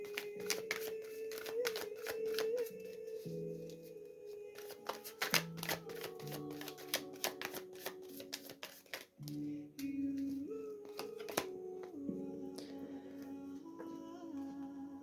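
Tarot cards shuffled in repeated riffling bursts with sharp flicks and taps, close and fairly quiet, over a steady low hum, with no voices.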